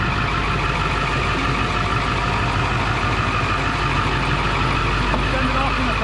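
Ford F350 pickup with the 7.3 diesel running steadily nearby, a dense, loud, unbroken engine drone with no pauses or revving changes.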